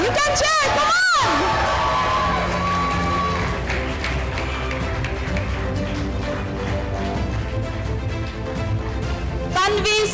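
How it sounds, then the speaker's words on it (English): A crowd of parents and children at a nursery graduation cheers, whoops and yells, with loud shrill bursts at the start and end and a busy roar of voices between. "Yes, you can cheer louder."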